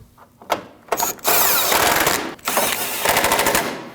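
A power tool drives 10mm bolts on a 2012-2016 Honda CR-V 2.4L during AC condenser work, producing loud rapid rattling bursts, with short pauses between the runs.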